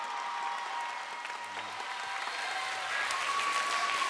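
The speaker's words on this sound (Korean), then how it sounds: "힘찬 박수와 함께" Steady applause from a lecture audience greets the author Kim Dong-hyuk, an SNS poet, at the start of his talk on a Korean broadcast stage, sustained clapping at moderate level throughout with no voices.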